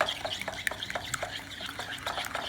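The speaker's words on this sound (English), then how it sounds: "let's whisk all this together" Mustard and egg dressing for a Caesar salad being whisked in a bowl, rapid irregular clicks and taps of the whisk against the bowl over a quiet wet swish, close up with no talking.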